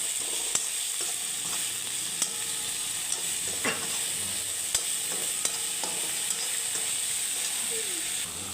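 Finely chopped Malabar spinach leaves frying with turmeric, salt and red chili in a pan, a close steady sizzle broken by regular clacks and scrapes of a stirring spoon.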